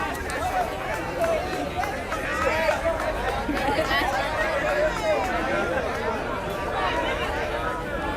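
Steady crowd chatter and babble from a packed house at a varsity high school baseball game, Wilson against St. Albans, a continuous hubbub of many overlapping voices filling the stands.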